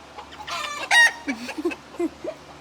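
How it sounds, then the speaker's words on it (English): Backyard chickens cluck close by in a short burst of squawks, with one louder crow-like call in the middle. "y'all hear my chickens"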